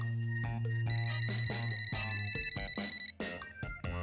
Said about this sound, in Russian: Я слышу звонок.